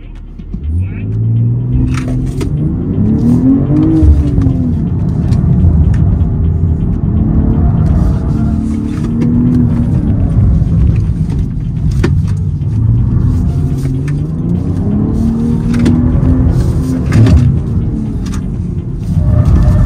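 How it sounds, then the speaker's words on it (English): A 2024 BMW M2 performance coupe driven hard on a gymkhana course, its engine rumbling loudly and repeatedly revving up and down through sweeping pitch changes, with a person talking over it throughout. "And we're pushing it here at the Gymkhana course and to see how the car feels like."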